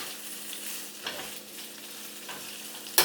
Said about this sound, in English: Okay, so that's simmering. Stir it around.